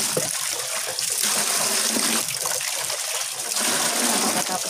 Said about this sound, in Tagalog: Kuha ko ng tubig guys kasi magdilip sa halaman guys.